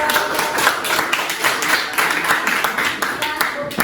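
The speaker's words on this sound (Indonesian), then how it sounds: "Oke, beri aplaus." A classroom audience claps for a student group that has just finished presenting. Dense, steady applause from many hands lasts the whole stretch at a moderate level.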